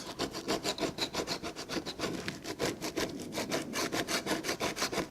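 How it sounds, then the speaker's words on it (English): Old filler is scraped off a damaged hollow door in quick, regular back-and-forth strokes, a close, rhythmic rasping that continues steadily with no talk. "Just gently scrape all that off."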